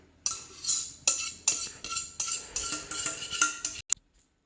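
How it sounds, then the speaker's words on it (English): A cooking pan being scraped out after making Christmas pudding, a series of about a dozen close metal utensil scrapes and clinks in an uneven rhythm, ending with a sharp final tap and then quiet. "Now I'm just scraping out what's in the pan, and we are done."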